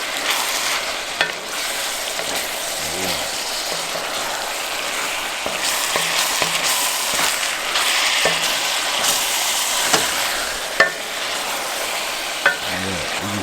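Beef enchilada casserole filling sizzles in a pan, a steady close frying hiss broken by scraping stirs and a few sharp clanks of a utensil, with no talking.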